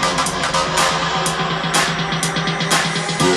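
Bass house synth bass in a dense, full mix of a track being remade in Ableton, with a driving low bass line under steady percussive hits and bright accents, loud and continuous.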